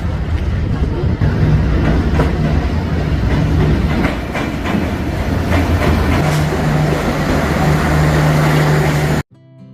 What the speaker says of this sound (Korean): 후회역으로 기차가 들어오고 있습니다.